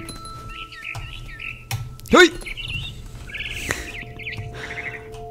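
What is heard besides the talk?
bird chirping in video game What Remains of Edith Finch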